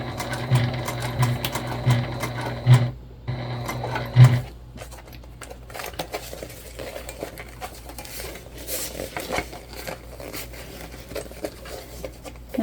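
A sewing machine stitches piping onto a crossbody bag, its steady motor hum and needle chatter running through the first four seconds, then pausing before lighter handling noises follow.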